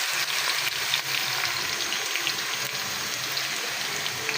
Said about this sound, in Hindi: ये भिंडी को मैं फ्राई कर रही हूँ।